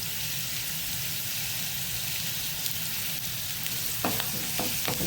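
Curry leaves fry in a pan of hot oil for a Mangalorean egg fry, giving a steady close sizzle with a few sharper crackles and pops near the end, and no voices.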